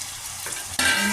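Spice paste for dhaba-style palak paneer bursts into a loud, hissing sizzle in the pan the moment water is added, after a quieter stretch of frying.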